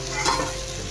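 Pua batter cakes frying in hot mustard oil give a steady, close, continuous sizzle with a soft crackle, holding at an even level with no talk.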